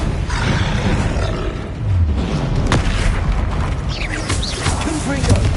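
Confringo fire-spell blasts from the video game Hogwarts Legacy, deep booming roars and rumbling bursts that run through the clip, with a voice shouting over them.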